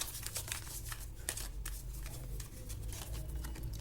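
Tarot cards shuffled continuously up close, a dense papery riffling and rustling that runs without pause, faint and with no talk over it.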